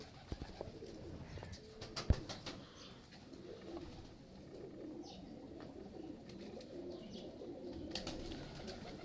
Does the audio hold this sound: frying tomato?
no